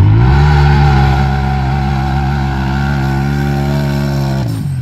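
A Polaris RZR Pro XP4 side-by-side racing on a rally course at Mountain Mayhem 2023 roars loudly and close, its engine holding a steady high rev throughout before dropping off abruptly at the end.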